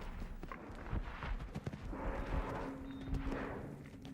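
Horse galloping toward a fence and jumping: a steady rhythm of hoofbeats on turf under ambient outdoor noise, with a heavier thud near the middle as the horse takes off and lands.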